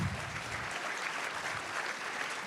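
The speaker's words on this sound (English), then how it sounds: "Let's give him a round of applause." An audience at a talk on higher education applauds in a dense, steady wash of clapping that holds at an even level throughout.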